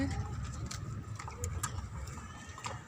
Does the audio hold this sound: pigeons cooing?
yes